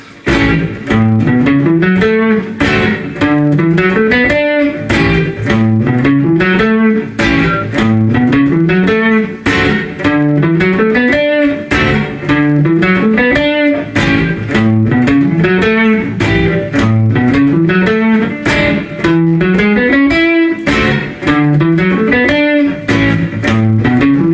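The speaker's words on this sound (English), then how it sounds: "So 12-bar blues with this little exercise, this little development is going to sound like this." Electric guitar plays a repeating pentatonic exercise over a 12-bar blues, steady rhythmic runs looping throughout with a gritty, effected tone and no talking.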